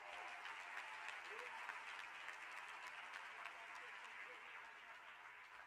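A church congregation claps at a faint, even distance, a steady wash of applause holding throughout before a sharp knock at the very end.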